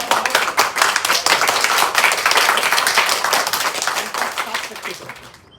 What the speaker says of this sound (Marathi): कोणी चांगलं काम केलं तर त्याच्यासाठी टाळ्या वाजवा